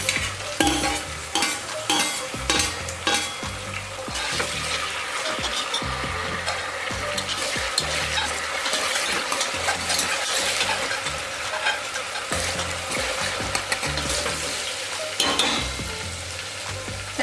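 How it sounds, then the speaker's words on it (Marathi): Onion and tomato sizzle in oil in a pan for Kolhapuri misal, stirred steadily with a spoon that scrapes and clatters against the metal, loud and close with no voices. "कांदा हलकासा भाजला की त्यामध्ये टोमॅटो टाकून घेऊया।"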